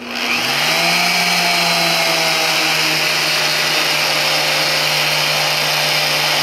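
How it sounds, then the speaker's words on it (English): A powerful magnetic drill press motor spins up and then runs at a steady, loud whine with a low hum while drilling, continuous throughout. "So let's get drilling here."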